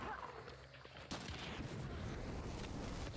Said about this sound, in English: What a banger of a shot